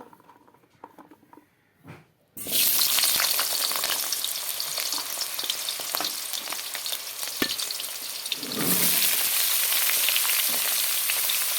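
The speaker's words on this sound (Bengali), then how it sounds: "দেখো কড়াইতে তেল দিয়ে দিলাম এখন আলুগুলোকে ঢেলে দেব" Potatoes poured into hot oil in a wok burst into a sudden loud sizzle after a quiet start, crackling steadily and swelling louder again near the end.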